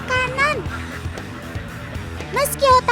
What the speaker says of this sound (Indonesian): Itu dia itik alabionya datang.